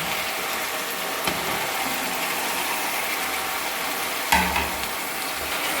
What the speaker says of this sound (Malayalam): ഇങ്ങനെ തക്കാളിയൊക്കെ ഇട്ടതിന് ശേഷം ഞാൻ ഇങ്ങനെ കുറച്ച് സമയം ഇങ്ങനെ ഇളക്കി കൊടുക്കുന്നുണ്ട്